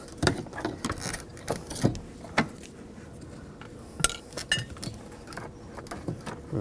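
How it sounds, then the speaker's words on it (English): A straight-blade screwdriver pries up the fuel pump module on a 2007-2013 BMW 328i 3.0L L6, making scattered close clicks, taps and light metallic clinks at an uneven rhythm. "Just use a straight blade screwdriver and just pull this up."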